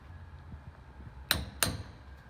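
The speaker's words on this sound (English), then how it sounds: "And then you take a center punch." A hammer strikes a center punch twice to dimple the metal of a Jeep JK CV joint: two sharp, ringing metallic taps about a third of a second apart, close up, over a low background hum.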